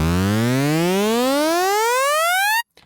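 A synth riser from Native Instruments Massive, with oscillator pitch automated across all oscillators, sweeps steadily upward as a loud, bright harmonic tone for about two and a half seconds, then cuts off abruptly, followed by a faint click.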